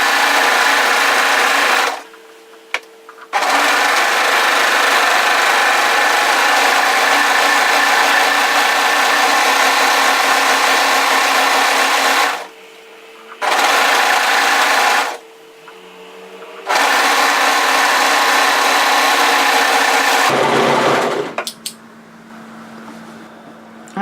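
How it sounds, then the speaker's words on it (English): An overlocker stitches along the hemline of a woven kimono robe in loud, steady runs of machine whirring, stopping and restarting several times with short silent pauses between bursts. "what we're going to do is just overlock tidy the hemline from centre front to centre front"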